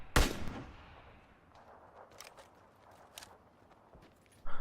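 Gunfire in the video game PUBG: one loud sharp shot at the start with a long decaying tail, followed by fainter distant shots and scattered sounds, and another sharp report right at the end.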